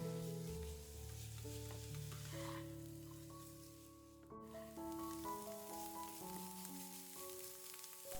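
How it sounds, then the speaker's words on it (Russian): Onion, carrot and sweet pepper sautéing together in vegetable oil in a pan, a steady sizzle with stirring scrapes running continuously under background music. "Затем к луку добавляю морковь и сладкий перец и пассерую все вместе минут 5-7."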